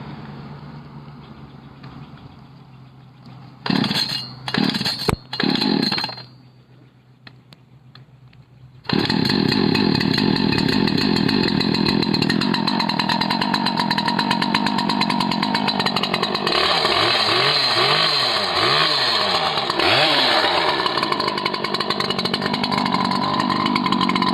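After a few short bursts of starting noise, a loud engine-driven GeoRipper 6 Series geode cracking machine kicks in and runs steadily, close by, with shifting pitch as it works.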